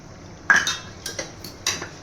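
Ground cashew and almond paste goes into a pot of mutton korma with a few sharp metallic clinks of a spoon against the pot, spaced out over a quiet background, close and fairly loud.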